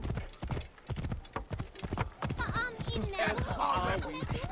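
Horse hooves clip-clop in Assassin's Creed Origins as a rapid, steady run of close, loud hoofbeats, joined by a brief whinny, with a voice talking over them.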